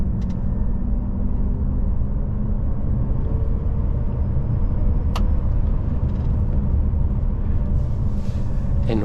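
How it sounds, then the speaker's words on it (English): A 2023 Mercedes eActros fully electric truck accelerates hard with its boost, a steady low rumble and road roar heard from inside the cab, with a faint rising whine and a brief click partway through. "So when you push the kick down, you use the 400 kilowatt hours to accelerate. So you can do a little drag race now."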